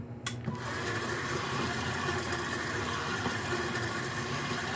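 A steady electric mixer beating macaron batter whirs continuously at close range, a constant motorized buzz with no pauses and no talking.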